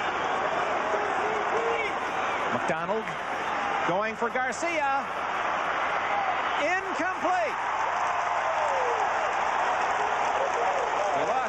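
A stadium crowd at the 1980 Rose Bowl football game between Ohio State and USC keeps up a continuous roar with rising cheers, heard under an announcer's play-by-play commentary.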